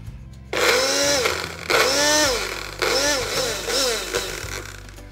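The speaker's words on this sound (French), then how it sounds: "On ferme et on va mixer tout ça." A kitchen blender whirs in several loud bursts, pulsing on and off as it purées pissaladière ingredients of garlic and vinegar, with brief pauses between the runs.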